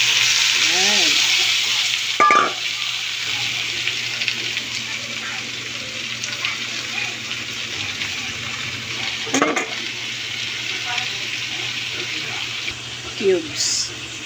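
Bottle gourd (upo) sautéing in a pan gives a steady broadband sizzle and hiss throughout, with a few brief clatters of stirring and faint voice-like sounds in the background.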